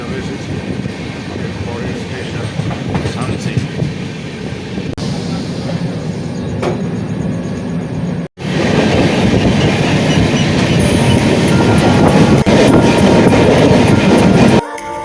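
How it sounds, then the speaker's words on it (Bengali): A Hamsafar Express train runs on the Howrah–New Jalpaiguri line in West Bengal, a loud, continuous rumble of wheels on rails with rattling carriages, briefly cut off by a sharp break before the roar resumes. "ট্রেন ছেড়ে দিল"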